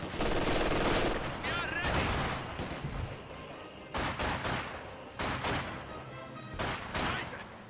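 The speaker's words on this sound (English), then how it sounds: "Contact! Enemy machine gun!" Machine gun fire in a World War II strategy game battle, with dense, loud bursts of rapid automatic shots layered with other gunfire, heavy at the start and then coming in separate bursts, with shouting voices mixed in.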